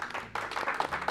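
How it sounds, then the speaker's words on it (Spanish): Brief, light clapping from a small live audience at a finance talk show taping, scattered and fairly soft, lasting only about a second. "Aplauso."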